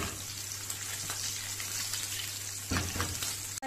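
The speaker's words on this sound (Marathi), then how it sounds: "थोडी गॅस फ्लेम मंद आचेवर आपण हे फिश भाजणार आहोत" Goan fish shallow-frying in a pan over a low gas flame, a steady soft crackle and sizzle with a low hum beneath, a brief louder burst near the end.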